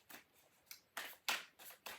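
A tarot card deck is shuffled with a series of quick riffling bursts, six or seven crisp rustles spaced unevenly, quiet and close with no talking.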